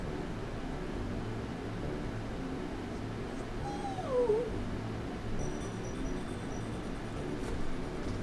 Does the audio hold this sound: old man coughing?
no